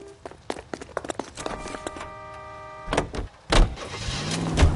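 In LA Noire, footsteps and clicks lead into a car door, then an engine turning over and revving as a vintage car pulls away, loud and close.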